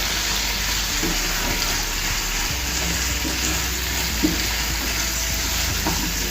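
A boiled radish mixture is stirred with salt, giving a constant wet hiss and low rumble with faint scraping of a utensil, steady and moderately loud, no voices.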